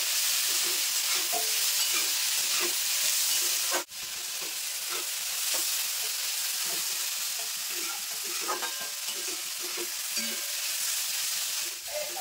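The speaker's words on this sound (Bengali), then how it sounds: "তো সবজিগুলো কিন্তু আমি ভেজে নিয়েছি" Vegetables for egg chowmein sizzle loudly in hot oil while being stir-fried, with a steady crackling hiss broken by the scrape and clack of a spatula stirring the pan.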